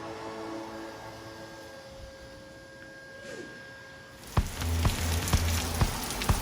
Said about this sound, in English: This is gonna be fun going out in the rain. It's freaking pouring.